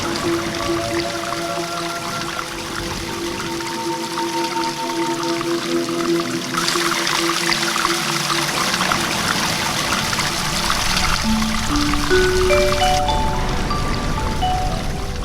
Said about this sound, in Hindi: पानी बरसने लगा।